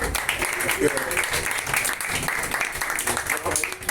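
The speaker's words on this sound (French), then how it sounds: "On applaudit." Audience members at a ceremony celebrating young graduates clap together in a busy, steady patter, moderately loud, with voices mixing into the clapping.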